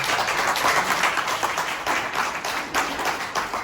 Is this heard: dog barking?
no